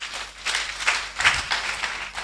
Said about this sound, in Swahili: Mpe Bwana makofi mazuri